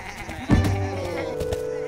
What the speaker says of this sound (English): those are the sheep